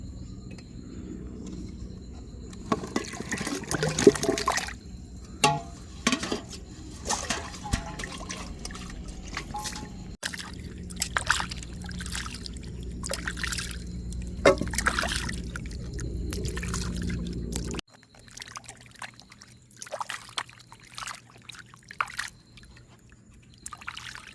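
Water splashes and trickles in bursts as it is poured over cassava tubers being washed in a village kitchen outdoors, with crickets chirping steadily in the background.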